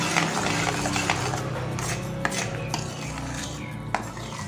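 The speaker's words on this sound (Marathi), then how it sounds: "छान असं फिरवत राहायचं आहे चमच्याने" Urad dal flour roasts over low heat while a spoon stirs it around the pan, producing repeated scraping and clinking strokes of metal on the pan over a faint dry rustle, with no voices.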